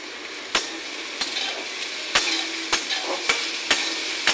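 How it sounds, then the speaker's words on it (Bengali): Salt being stirred into onions and carrots in a frying pan, with a steady sizzle and the utensil scraping the pan at a regular rhythm, close up. "নুনটা পেঁয়াজের সঙ্গে গাজরের সঙ্গে মিশিয়ে নিই।"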